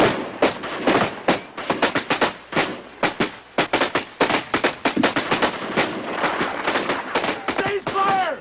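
Rifle volleys crack out in a rapid, ragged series of sharp, loud shots, closely spaced and overlapping for several seconds, with echoes between bursts and a brief voice near the end.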